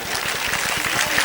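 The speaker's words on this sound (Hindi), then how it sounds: "बजाओ ताली।" Brief, dense clapping rises from an audience at an Urdu poetry mushaira, loud and continuous with a rhythmic beat underneath.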